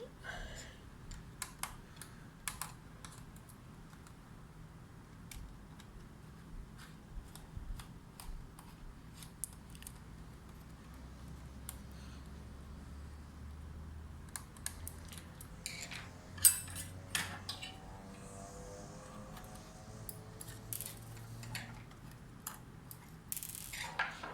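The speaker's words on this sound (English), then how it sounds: "I'm using this extra small screwdriver for these" Extra small screwdriver backing tiny flat-headed screws out of an HP Pavilion 15 laptop, a series of faint, sparse clicks and metallic ticks close by over a quiet room, with brief scraping and rattling of parts.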